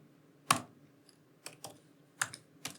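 Someone types code on a computer keyboard, giving a few sharp, separate key clicks with short pauses between them in a quiet room.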